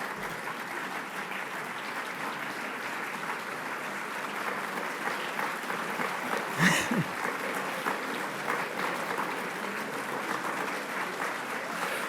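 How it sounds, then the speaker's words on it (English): An audience claps steadily after a talk on government transparency and politics, a dense continuous wash of applause with a brief louder burst near the middle and no speech over it. "I'm glad you're clapping"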